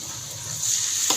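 Water poured into spiced masala frying in a pan for chicken curry, with turmeric and coriander. The sizzle is steady and close, then rises into a louder hiss as the water hits the hot oil.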